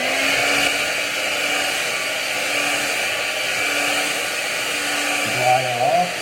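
A hair dryer blows a steady, loud, close whir to dry skin during an ostomy bag change, running continuously with a brief shift in tone near the end.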